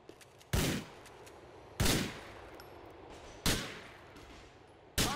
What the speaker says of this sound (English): Can you only shoot one bullet at a time, or am I doing something wrong?